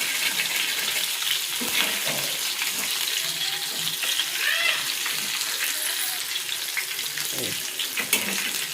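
Fish coated in masala frying in a pan, a steady bright sizzle and crackle throughout, with occasional faint clinks and soft background voices.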